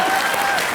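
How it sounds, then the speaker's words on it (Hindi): Audience applause at a Hindi comedy show staged aboard a mock airline, a short dense burst of clapping that fills the moment without any speech. "जोरदार तालियां मेरी एक्टिंग के लिए हो जाए"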